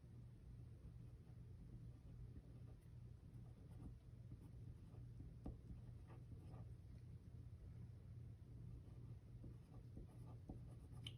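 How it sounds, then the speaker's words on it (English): A pen writing on paper in a planner, with faint continuous scratching strokes over a steady low background hum, close and quiet with no talk. "So let's go ahead and write."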